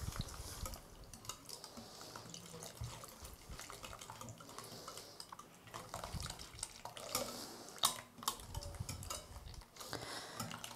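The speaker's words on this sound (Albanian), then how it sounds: "Dhe më pas do shtojmë edhe qumshtin." Milk pours into a dough mixture for small pan-fried byrek, a soft, steady liquid trickle and splash with light stirring clinks, fairly quiet and close, with no voices.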